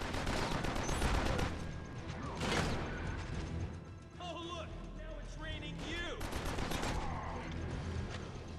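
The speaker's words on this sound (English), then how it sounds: "So as fast as you can tap the fire button, you can fire off rounds." A semi-automatic ISA shotgun in the Killzone Mercenary game fires quick repeated blasts alongside other combat clatter and crashes, loud and dense, with a voice speaking over parts of it.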